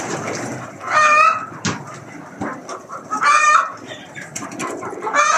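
Chickens cluck and squawk in bursts, a busy flock of about 300 to 400 close by in an enclosure with pigeons, scattered bird calls and rustling between the louder calls.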